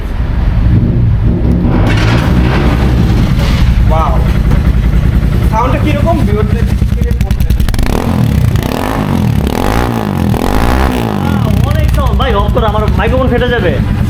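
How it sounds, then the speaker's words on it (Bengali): A Regal Raptor motorcycle starts by remote and settles into a steady, throbbing idle heard up close. Someone talks loudly over the engine for most of the time. "আমি কিন্তু এখন এটা রিমোট দিয়ে স্টার্ট করতে পারবো"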